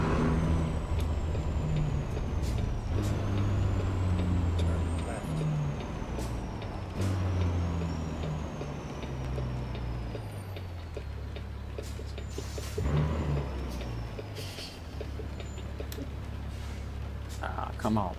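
Heavy truck engine rumble with hiss of air brakes and a ticking reverse or indicator beep in American Truck Simulator on PC, hauling fruit, droning steadily and close throughout.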